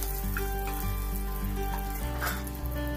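Garlic and cashew nuts fry in a pan with a dense, continuous sizzle, heard under loud steady background music for a few seconds.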